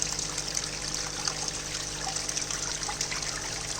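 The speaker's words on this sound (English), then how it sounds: "there's water flowing out and there's water coming from all over here" Water trickles and splashes steadily out of holes in a paludarium waterfall, a continuous close dribbling with no voices.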